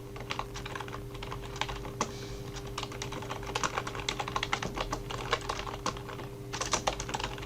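Computer keyboard keys click in quick, irregular succession, including a press of the Enter key, over a low steady hum with no talking.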